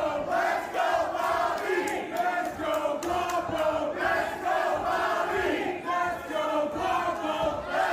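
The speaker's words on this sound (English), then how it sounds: "There's a let's go Bobby, let's go Guapo chant" A wrestling crowd at an SPW event chants a rhythmic two-name cheer, many voices in unison rising and falling in steady repeated phrases, loud and close.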